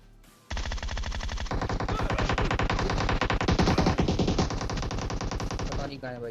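Gunfire in the video game PUBG: after a quiet start, long loud bursts of rapid automatic fire rattle on continuously, dense and close, with brief overlapping shots and a faint voice beneath.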